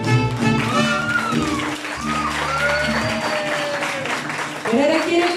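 Applause from guests at a quinceañera celebration with a youth mariachi band in Colombia: sustained clapping under loud singing and instruments, with a voice over the crowd.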